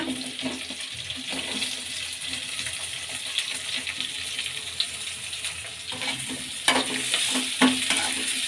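Onions fry and sizzle in hot oil with garlic, ginger and green chillies while a spoon stirs them in the pan, producing continuous sizzling and scraping with a few sharper clinks near the end.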